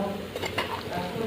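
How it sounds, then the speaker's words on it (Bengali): Fried vegetables tipped into dal in a pot for khichuri, a short close burst of sizzling and stirring with a light clatter of pan and utensil, no talk. "এবার ডালের ভিতর সব সবজিগুলো ঢেলে দেবো।"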